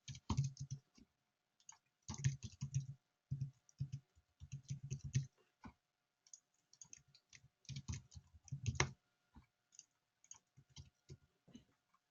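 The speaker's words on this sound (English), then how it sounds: "as soon as I start typing" Typing on a computer keyboard, heard close and fairly quiet: bursts of rapid key clicks separated by short pauses, with the occasional single tap in between.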